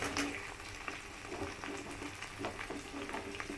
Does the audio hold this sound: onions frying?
yes